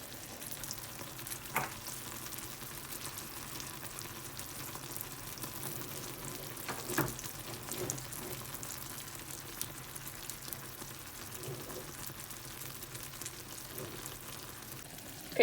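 Dark caramel for an apple tarte tatin cooking in a pan on the hob, a soft steady sizzle and bubbling with faint occasional clicks, continuous and fairly quiet throughout.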